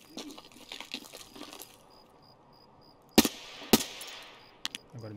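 Gunfire in the shooter game Escape from Tarkov: two sharp, loud shots a half second apart, then fainter cracks, mixed with soft rustling game noise and a faint beeping.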